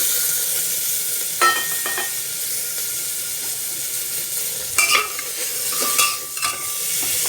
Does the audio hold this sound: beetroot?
yes